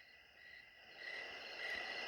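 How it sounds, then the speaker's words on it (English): Crickets chirping in a nighttime soundscape from a Brookstone sleep sound mixer, a steady high trill that swells slightly louder partway through and continues alone without pause. "here is nighttime noises, which is mostly crickets."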